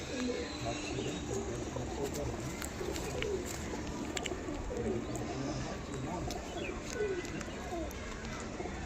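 Pigeons coo repeatedly inside a loft, with soft overlapping calls over a constant rustling background and a faint voice now and then.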